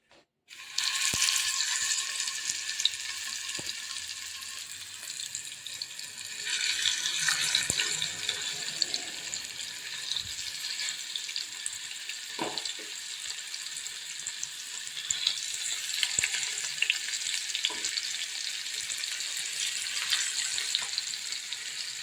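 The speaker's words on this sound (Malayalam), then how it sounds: "നമുക്ക് മീൻ വറുപ്പാണ്" Masala-marinated fish frying in hot oil, a steady loud hiss and crackle that swells as pieces go in and holds continuously, with a few light knocks of a utensil.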